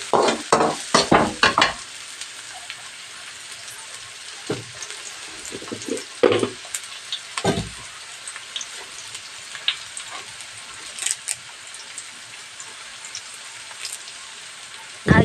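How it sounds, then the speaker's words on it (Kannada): Chopped onions hit hot oil in a pan for a goat blood fry, with scraping stirring and clinks at the start, then a steady soft sizzle and occasional utensil taps in a village kitchen. "ಹಾಗೆಯೇ ಇವಾಗ ಕಟ್ ಮಾಡಿರೋಂಥ ಈರುಳ್ಳಿನ ಹಾಕ್ತಾಯಿದ್ದೀನಿ"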